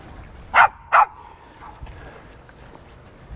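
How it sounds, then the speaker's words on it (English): A dog barks twice in quick succession, moderately loud and slightly distant, during a day out at Portland Castle, followed by quiet outdoor background. "You're making another dog bark over there."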